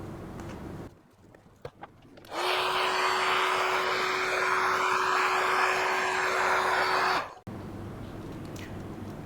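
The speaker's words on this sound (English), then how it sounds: "then we'll take out the heat gun and shrink this up" Heat gun blowing steadily for about five seconds while shrinking heat-shrink tubing on a survival fire kit, a loud continuous whoosh with a fixed whine that starts and cuts off abruptly, with quiet handling noise around it.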